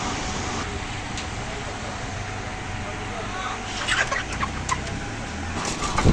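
Parej breed chickens cluck and call in a poultry shed, a few brief calls rising over a steady broadband hum and background noise.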